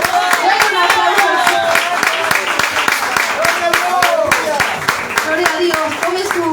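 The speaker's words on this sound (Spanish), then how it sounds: "Denle un aplauso." A church congregation claps steadily and rhythmically in unison, with voices and shouts of praise mixed over the claps, which sound close and loud throughout.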